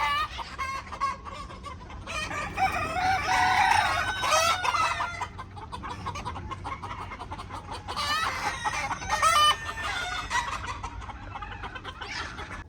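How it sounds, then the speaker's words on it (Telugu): A crowd of local chickens on a Dubai desert farm clucks and cackles steadily, with roosters crowing loudly over the flock in several bursts, close by and with no talk. "ఇక్కడ చూడండి ఎన్ని కోళ్ళు ఉన్నాయో"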